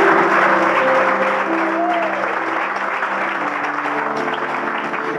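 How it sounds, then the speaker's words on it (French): An audience at a church conference applauds steadily, a dense wash of clapping from a large crowd that holds for several seconds with some voices and tones mixed underneath. "acclamons pour le Saint-Esprit"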